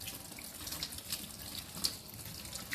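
Crab pieces for Singapore chilli crab curry are washed under a running kitchen tap, with a steady, soft stream of water splashing into a sink and faint handling noises.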